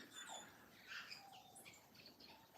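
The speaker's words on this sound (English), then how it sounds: "It is called a New Zealand robin, kakaruai." A New Zealand robin (kakaruai) sings along a forest nature trail at Orokonui, giving faint, scattered high chirps and short whistled notes against quiet outdoor ambience.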